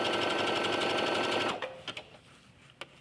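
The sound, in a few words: sewing machine sewing a straight stitch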